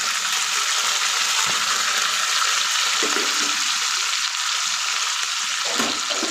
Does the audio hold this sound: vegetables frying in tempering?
yes